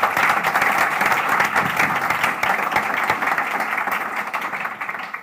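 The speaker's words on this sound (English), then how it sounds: "So a big round of applause for all our guests this evening." Audience at a live architecture business panel event applauds the guests, a steady, full burst of many hands clapping for about five seconds without pause.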